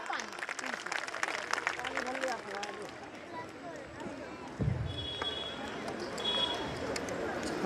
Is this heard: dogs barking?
no